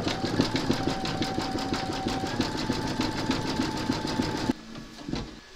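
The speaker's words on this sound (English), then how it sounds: "We're now going to pop our hoop into our machine and stitch round number 9, and that's going to zigzag along here and join the two segments together." A Brother embroidery machine stitches a zigzag line, a steady fast mechanical rattle of needle strokes with a faint whine, close and alone, stopping abruptly near the end and leaving quieter handling noise.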